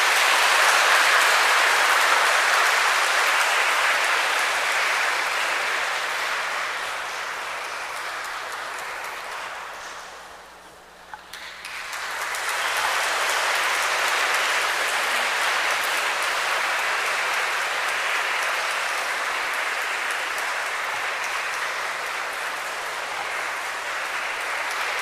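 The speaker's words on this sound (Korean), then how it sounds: "큰 박수 부탁드립니다" A big round of applause from a congregation at a Catholic baptism ceremony, dense and continuous, fading briefly to near silence halfway through before swelling back into sustained clapping.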